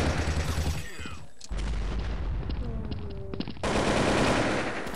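Video game gunfire: rapid automatic bursts and heavy booming shots in a constant loud firefight, with continuous weapon fire from start to finish.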